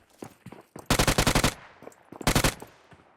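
Automatic gunfire from the PUBG Mobile video game rings out in two loud, rapid bursts of about eight shots each, with softer single shots and footstep-like thuds between them.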